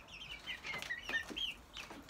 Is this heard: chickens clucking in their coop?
yes